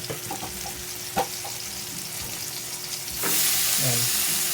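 Dried anchovies hit a hot pan with tomato and soy sauce, a steady background sizzle with a few clinks of stirring, then a louder surge of frying hiss near the end.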